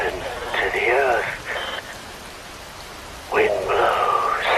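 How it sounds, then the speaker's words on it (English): Rain falls in a Metal Gear Rising cutscene: a steady, hissing wash runs under strong, tonal vocal sounds that come and go, briefly thinning between them. "Wind blows, rain falls."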